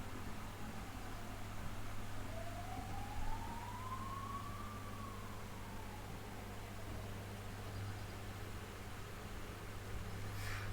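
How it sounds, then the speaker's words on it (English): An ambulance siren passes at a distance, its single wail swelling in pitch and then sliding back down over a steady background hum, with no voices. "Ambulance."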